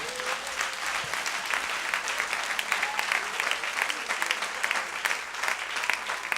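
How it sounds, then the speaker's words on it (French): A church congregation claps steadily and loudly throughout, a dense wash of many hands with no pause, and a voice faintly audible within it. "Oh, donne une bonne main d'acclamation à Dieu."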